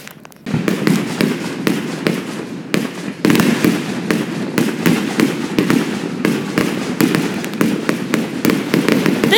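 Fireworks show with a rapid stream of sharp cracks and pops, dense crackling bursts overlapping one another, loud and continuous throughout with no talking.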